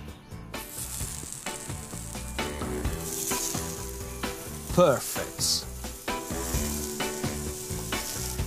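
Carrots sizzling in olive oil and salt on a hot griddle pan, a steady crackling hiss with scraping and stirring clatter from utensils, fairly quiet and close, with a brief spoken word partway through.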